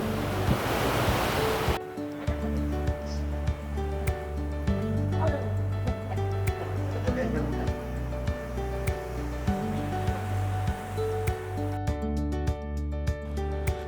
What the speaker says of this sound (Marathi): गणपतीपुळे बीच.